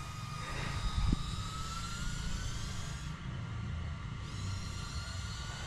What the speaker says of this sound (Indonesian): Oke, Engine mulai on. arming, kita lihat performa Meteor 75 Pro.